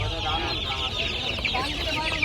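Chickens cluck continuously and close by at a crowded bird and poultry market in Hemayetpur, with a dense, steady chorus of hens and young fowl and some murmured voices in the background.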